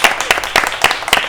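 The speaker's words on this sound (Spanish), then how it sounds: "un aplauso para vosotros" A small live audience at a podcast recording claps in a brief, crisp burst of separate handclaps.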